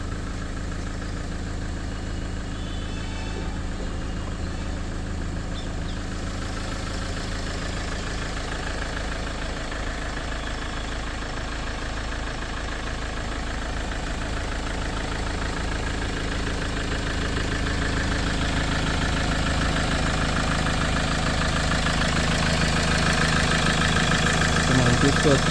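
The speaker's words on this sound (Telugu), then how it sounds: "ఎందుకంటే ఇంజన్ బీటింగ్, అసలు ఇంజన్ చాలా పర్ఫెక్ట్ కండిషన్లో ఉంది" A 2015 Mahindra XUV500 W8 diesel engine with about 118,000 km idles steadily, a continuous even rumble with a faint rhythmic clatter that grows slightly louder toward the end.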